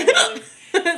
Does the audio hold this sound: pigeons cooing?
no